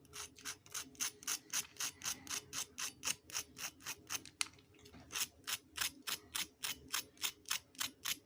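Crispy fried snack of poha and raw potato, crunched in about twenty sharp, evenly spaced bites, close and crisp, with a brief pause midway and no talking.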